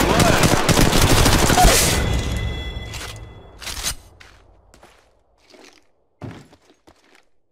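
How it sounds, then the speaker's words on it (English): R301 rifle gunfire in the Apex Legends Mobile video game: a dense, loud burst of rapid shots for about two seconds, then a few scattered sharp shots and footsteps fading into quieter moments. "try the R301 and shoot him down"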